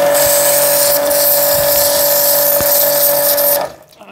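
A Cazar KS-CW170 2700-watt pressure water jet sprays loudly and steadily at a fish with a hissing roar and motor whine, then cuts off abruptly near the end.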